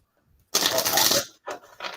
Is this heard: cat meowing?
no